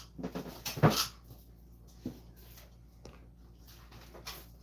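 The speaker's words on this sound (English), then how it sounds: "Is there a dog? Yeah, there was a dog." A dog gives a short whimper close by, a brief high whine near the start and a few fainter whines after it, set against quiet room noise in a workshop where cabinets are being built.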